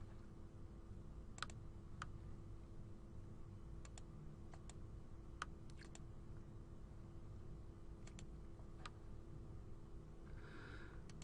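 A computer mouse clicks to select graphs on screen, giving faint, sharp, scattered clicks, some in quick pairs, over a low steady room hum.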